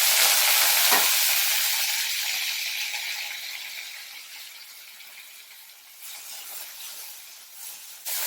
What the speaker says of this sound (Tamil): புதினாங்கிறதுனால கொஞ்சம் நேரம் ஃப்ரை ஆகணும்